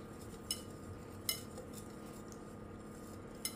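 Salt and white sugar are mixed in a bowl with a utensil, making a few faint, sparse ticks and clinks against the bowl over a quiet, steady background hum.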